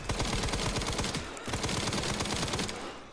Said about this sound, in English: main reason we have the SMG is for these guys